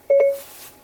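Short electronic activation chime for Siri in a 2017 Honda CR-V Touring AWD cabin: two quick tones followed by a held note, clear and close, with no talk over it.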